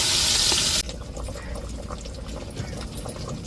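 A pot of fish curry made with several kinds of fish bubbles at a steady boil, dense and close, after a brief loud hiss at the start, with no voices.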